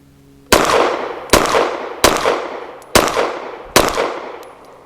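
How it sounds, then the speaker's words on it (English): Five sharp, loud gunshots from a BRG9 Elite Gen 2 pistol ring out one by one at a steady pace, each crack followed by a short fading echo, with no talking. "Trying to get a feel for the trigger. It's really soft shooting."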